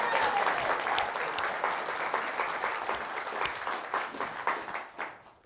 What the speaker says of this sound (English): We can clap for Karen too